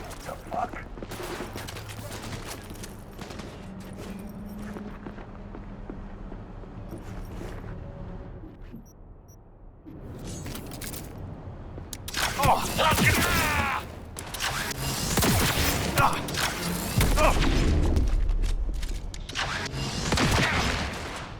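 Heavy gunfire in the game Cyberpunk 2077, bursts of shots and booms near an old TV station, growing louder and denser in the second half, with voices talking over it.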